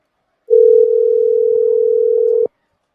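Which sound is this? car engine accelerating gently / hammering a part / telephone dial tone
telephone dial tone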